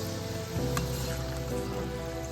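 Mini croissants deep-frying in hot oil for a Malayalam tea-time snack, giving a steady, close sizzle and bubbling with no talking.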